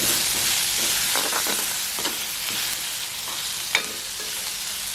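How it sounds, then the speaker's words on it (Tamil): Curry leaves sizzle in hot oil in a pan, a steady, close frying hiss with a few brief spoon scrapes and crackles as they brown. "கருவேப்பிலையை கொஞ்சம் போட்டுட்டு நல்லா பொன்னிறமாவது மட்டும் அப்படியே விடுவோம்."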